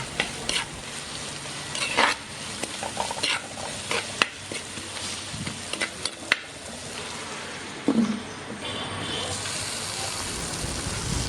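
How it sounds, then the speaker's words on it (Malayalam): Onions with salt are stirred and fried in a pan for a Kerala tuna fish curry, giving a steady sizzle with scraping spoon strokes against the metal at irregular intervals, close and clear. "ഉപ്പ് ചേർത്ത് നന്നായിട്ട് ഇളക്കി യോജിച്ചതിന് ശേഷം നമുക്ക് മൂടി വെച്ച് ഒരു 2 മിനിറ്റ് ഒന്ന് കുക്ക് ചെയ്യാം"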